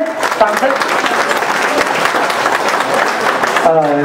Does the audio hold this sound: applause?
yes